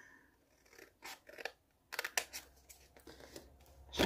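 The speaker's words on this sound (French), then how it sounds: "Je vais prendre des ciseaux plus longs" Long scissors cutting paper for a scrapbooking craft: a handful of sharp, close snips and crisp rustles come in uneven bursts, with quiet pauses in between and no talking.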